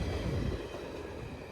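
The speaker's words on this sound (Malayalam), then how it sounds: "ഇതാണ് ജെസിഡി വാസ്കോഡഗാമ എക്സ്പ്രസ്" The JCD Vasco da Gama Express passes at a trackside spot near Suravali, Goa, a brief low rumble of rolling coaches that is strongest at first and then eases.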